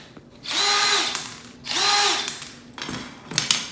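A power drill backs screws out of the front faceplate of a TV wall-mount bracket in two sustained whirring bursts followed by a couple of shorter spurts, loud and close with no talking.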